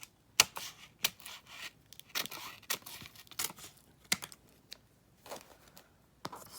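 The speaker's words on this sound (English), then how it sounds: "get some scissors and cut off" Quiet crisp snips and crinkly rustles of scissors cutting through an adhesive vinyl backing sheet, irregular bursts with short pauses between, close by.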